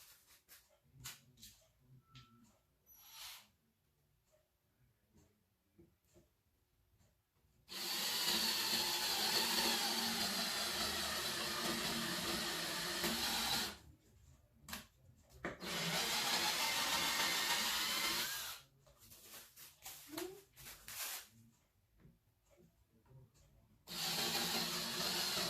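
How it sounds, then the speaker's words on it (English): A power drill bores into a wooden dresser in three bursts of loud, steady whirring, separated by quiet stretches with faint handling noises and brief clicks. "And then I'll go ahead and drill it."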